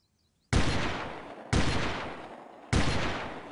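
Three loud, booming gunshots in the Delta Force 2 video game, evenly spaced about a second apart, each with a long echoing decay and no voices.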